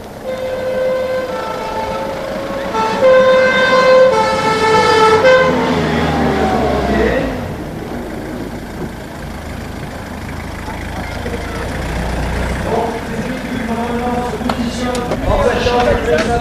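Fire brigade ambulance arriving at a firefighters' open day, its two-tone siren wailing loudly over the first half, then fading as engine rumble and crowd noise take over, with people talking throughout.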